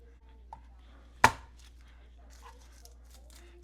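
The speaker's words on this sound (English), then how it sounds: "Chop up our onion." A single sharp knife chop on a cutting board while preparing onion and garlic, close and crisp, surrounded by quiet faint kitchen handling.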